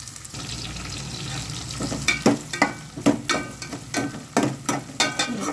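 Onions sizzling in hot oil in a home kitchen, a continuous crackling fry broken by repeated sharp scraping stirs of a spatula against the pan in an irregular rhythm.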